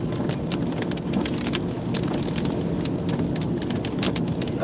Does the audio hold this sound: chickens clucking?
no